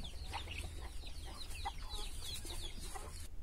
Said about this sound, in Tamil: இதெல்லாமே நாட்டுக்கோழிக